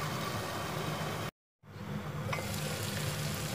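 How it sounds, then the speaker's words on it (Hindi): Tomato pizza sauce cooks covered in a pan on a slow flame, giving a steady soft sizzle and bubbling hiss that cuts out for a moment, then resumes. "अब हम इसको ढककर 6-7 मिनट तक पकाएंगे स्लो फ्लेम पर"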